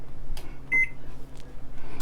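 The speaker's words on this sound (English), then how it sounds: "So we're going to set our timer to 5 minutes." Short electronic beep from a kitchen timer being set, a single brief tone amid quiet room noise and faint handling clicks.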